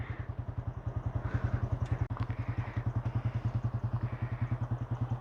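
A Yamaha YZF R15 V3 sports motorcycle idles nearby, its single-cylinder engine giving off a steady, rapid, even thumping pulse with mechanical clatter, loud and alone throughout.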